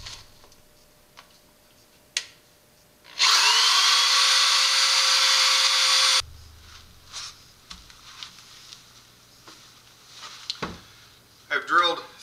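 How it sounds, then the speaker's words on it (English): A power drill with a 1/4 inch bit whines loudly for about three seconds drilling holes, steady and close, surrounded by clicks, knocks and handling noises. "I've got a 1/4 inch drill bit, and I'm just going to pop these holes right through here."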